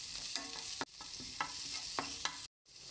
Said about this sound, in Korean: 버터가 녹으면 파를 넣고 볶아주세요.